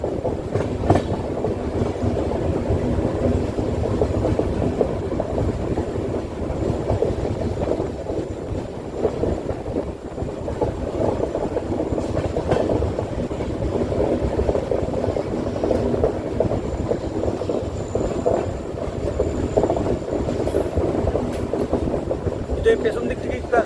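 A moving passenger train between Kamakhya and Siliguri gives a steady, close rumble of rolling carriages with a faint clickety-clack of wheels over rail joints, unbroken for the whole stretch.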